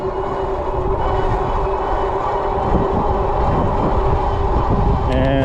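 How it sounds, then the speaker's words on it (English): Steady, loud wind rush buffets the microphone while riding a Troxus Lynx Plus mini fat-tire e-bike at speed in pedal assist, a continuous low roar with no talking. "Yeah, fair amount of wind."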